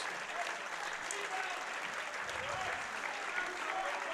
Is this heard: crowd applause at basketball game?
yes